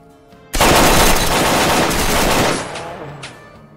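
Bandits open fire in the video game Lost Alpha, a loud, dense burst of automatic gunfire lasting about two seconds before tapering into fading echoes.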